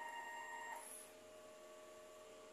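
An inkjet printer head on a tape machine runs a head-cleaning cycle: a steady, faint mechanical whir and hum with a short high whine near the start, continuous throughout.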